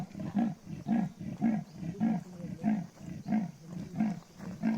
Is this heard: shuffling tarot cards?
no